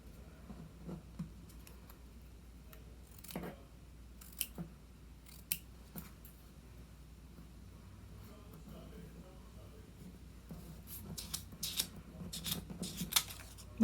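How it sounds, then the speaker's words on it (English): Scissors snip repeatedly through mosaic pieces, cutting them into strips, with crisp irregular cuts over a low steady background hum, more frequent toward the end. "I'm going to cut them into strips and then cut them into smaller pieces"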